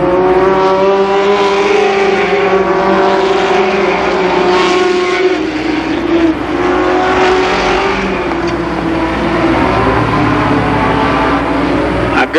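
Mini stock race cars roar around the turns at Columbus Motor Speedway, engines droning loud and steady with rising and falling pitch as the pack circles, a commentator faintly audible underneath.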